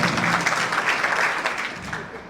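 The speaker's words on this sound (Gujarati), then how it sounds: "આવો જયેશભાઈને તાળીઓથી ઉભારો" A crowd at a political rally in support of farmers breaks into sustained, steady applause, dense clapping filling the whole moment at moderate volume while a voice carries on over it.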